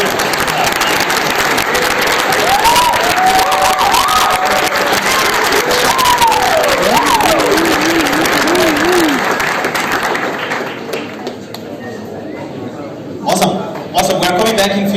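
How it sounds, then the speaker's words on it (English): Audience applause and cheering after a panel talk at a Berlin event, dense clapping with whoops and voices over it, fading out toward the end as a few scattered claps and talk remain. "Big round of applause."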